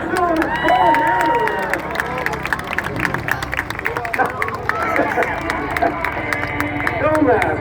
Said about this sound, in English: Give me that applause.